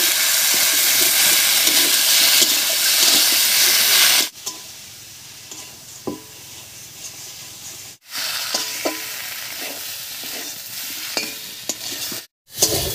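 Potatoes stirred in a pan with chilli, ginger-garlic, cumin and onion paste give loud continuous sizzling and scraping, with brief pauses between stirs and no talk.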